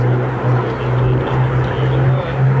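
Hispano Buchon Bf109 and Yak-3 warplanes sweep past at the Duxford 2017 airshow, a loud, close, steady propeller-engine drone with a deep throbbing hum that holds throughout.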